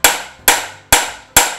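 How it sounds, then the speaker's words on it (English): Four sharp, evenly spaced hammer blows on a puller fitted to the crankshaft nose of a classic Mini Cooper S engine, ringing metallic strikes close by with no talk. "we're going to put a couple of shocks down through the nose of the crank with the hammer"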